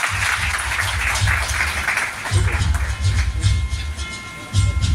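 An audience at an award ceremony claps continuously in a large hall, a dense wash of applause with a low rumbling undertone that swells in waves throughout.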